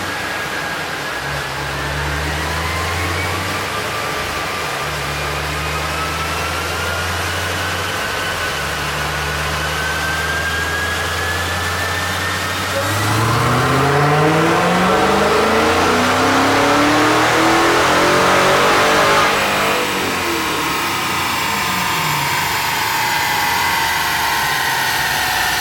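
A 2016 Dodge Challenger SRT Hellcat on a dyno in fourth gear idles with a deep rumble, then revs hard into a loud, climbing roar that peaks and falls away, with no talk over it.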